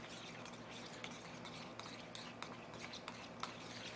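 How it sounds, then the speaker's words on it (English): A spoon stirs two tablespoons of blended hard-boiled egg mixture into a creamy salad dressing for Crab Louie, making faint, soft scraping and light clinking against the bowl over quiet background noise. "But you want to put in about 2 tablespoons of this blended hard-boiled egg mixture. And let's stir this together."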